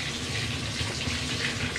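Running water is pushed across a white Glorious 3XL extended mousepad during cleaning, a steady close rushing hiss with no talk.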